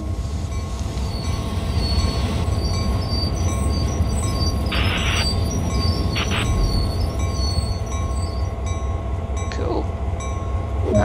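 A GP38-2 diesel locomotive in Train Sim World 2 rumbles steadily as it slows, with a continuous low drone, metallic hiss and a few brief squeals, loud and constant.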